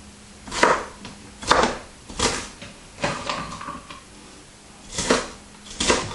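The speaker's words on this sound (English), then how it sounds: "I think I'm going to cut some of these up a little bit" Knife chops fennel and apple on a cutting board for a salad, about seven separate close thuds at an uneven pace with short pauses between.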